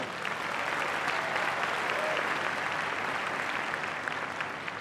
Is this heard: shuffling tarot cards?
no